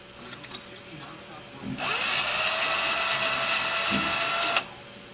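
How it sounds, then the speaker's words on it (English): A tool deburrs small metal parts during a Grumman-style aircraft nav light lens replacement. Light handling taps come first, then a steady high whir runs for about three seconds and cuts off sharply. "I'm going to use the butt end of it to deburr them."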